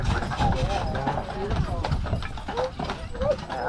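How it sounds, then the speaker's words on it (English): Horses pull a carriage on Mackinac Island, their hooves clip-clopping in a steady rhythm close by while people talk over them. "just on a carriage ride on an island, being pulled by cool horses"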